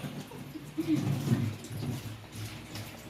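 Water runs and splashes at a sink while a pile of dishes is washed, a soft, uneven rush close by with faint clinks and a voice murmuring underneath.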